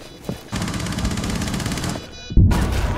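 Rapid automatic gunfire in a bomb-defusal round of a tactical shooter video game, with a sustained burst of shots, a brief lull, then a sharp loud blast and more firing.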